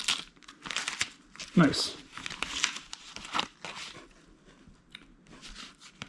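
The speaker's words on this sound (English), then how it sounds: "peel the transfer tape back, and I'm peeling the whole thing back" Transfer tape peeled off a decal on a restored rusty motorcycle gas tank, with crinkly tearing rustles close by, mixed with a short spoken remark.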